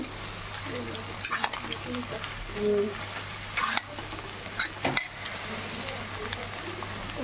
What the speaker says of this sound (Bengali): এবার এর মধ্যে এই চাউমিনটা দিয়ে দেবো